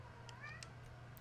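A pet cat meows a few short times during a Forza Horizon 2 drift-build stream, faint and mid-distance over a steady low hum of game and room noise.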